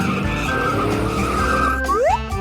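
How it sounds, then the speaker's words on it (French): A toy truck arriving with skidding tires, a loud close engine-like whine with a sharp squealing skid that sweeps upward near the end. "il y a un énorme camion qui est venu à la place de ma petite voiture"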